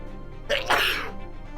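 A single sharp sneeze, close and sudden, rising out of a quiet background and fading quickly.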